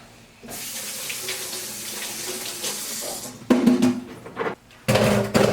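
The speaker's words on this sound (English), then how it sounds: "I'm going to put my potatoes in the strainer and we're going to rinse them off" Tap water runs over potatoes held in a kitchen strainer for rinsing, a continuous splashing rush with louder bursts as the flow shifts near the end.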